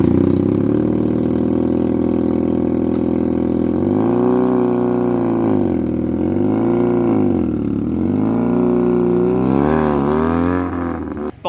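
A Benelli TNT 250 motorcycle engine with a 360-degree crank idles with a deep, steady throb, then revs up and down several times in smooth swells before dropping back.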